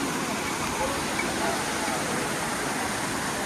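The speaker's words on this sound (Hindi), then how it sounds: "और आवाज़ सुन सकते हैं दोस्तों, पानी का आवाज़" Steady rushing water flows continuously at a Karbi traditional fishing festival in West Karbi Anglong, a broad even wash of sound with no pauses.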